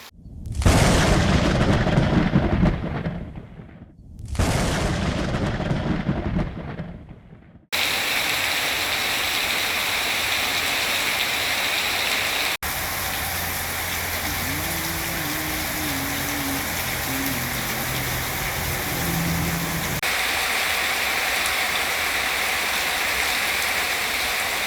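Two long, deep rumbles of thunder roll through at the start during a monsoon tropical storm, followed by a steady, dense roar of heavy rain that continues without a break, no voices.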